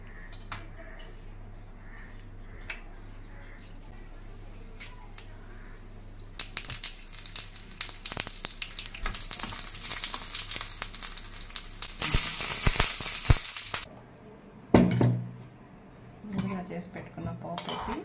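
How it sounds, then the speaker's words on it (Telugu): A tempering of spices for coconut chutney sizzles in a pan, with a steady frying hiss that builds to a loud burst of sizzle and utensil clatter. Faint talk can be heard under the sizzle. "కొబ్బరి చట్నీలోకి తాలింపు వేసుకున్నాము."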